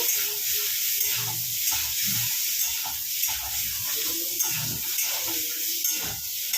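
Chutney frying and being stirred in a pan gives a steady, close sizzle with soft scraping strokes running throughout, no voices.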